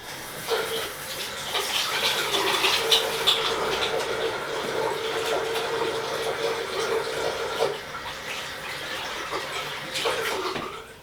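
Hands being washed under a running tap in a sink, a steady stream of water splashing and rubbing for several seconds, close and fairly loud with no talking.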